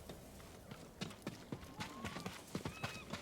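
Quiet hoofbeats clop unevenly, a horse trotting nearby in the video game Ghost of Tsushima, with soft thuds and a faint whinny-like tone, low in volume.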